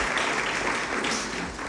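An audience applauds a musical family at a breakfast gathering, a dense, steady wash of clapping for a short burst.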